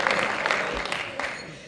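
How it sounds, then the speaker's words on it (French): A hall audience applauds award winners at a French craft competition ceremony, a short burst of brisk, moderately loud clapping with a few sharper claps standing out. "je voudrais qu'on les applaudisse"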